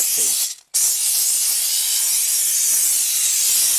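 A steam cleaner blasting at a motorcycle's fender and brake lines, a loud, continuous close hiss that cuts out briefly for a split second, then resumes steady and strong.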